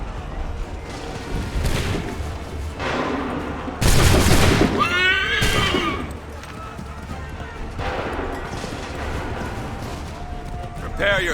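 Musket volleys in Assassin's Creed III, battlefield gunfire with a loud burst near the middle over clattering hooves and shouted commands, voices talking throughout.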